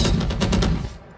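Rapid automatic gunfire from a weapon in the shooter game Valorant, a loud close burst of about six quick shots in steady rhythm that cuts off abruptly.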